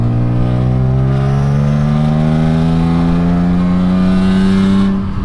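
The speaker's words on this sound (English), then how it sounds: "Trevor's new Active AutoWorks headers matched with the Megan Racing Catback." Car exhaust fitted with Active AutoWorks headers and a Megan Racing catback, droning loudly and steadily as the engine climbs slowly in pitch under acceleration, close and continuous before easing off at the end.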